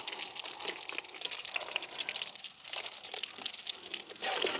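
Green chillies frying in hot oil during home village cooking of vada, a steady, close, broadband sizzling hiss that holds throughout with small crackling fluctuations and no talk.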